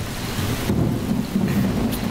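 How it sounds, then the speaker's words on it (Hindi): Heavy rain with thunder: a dense low rumble rolls under a steady hiss of rainfall, fairly loud and continuous across the short stretch. "बहुत बारिश हो रही है"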